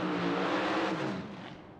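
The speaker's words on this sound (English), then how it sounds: "after these 2 loud burnouts" Elite Top Dragster drag cars doing burnouts at a PDRA East Coast Nationals drag strip, a loud, dense engine roar that fills the whole stretch and eases slightly toward the end.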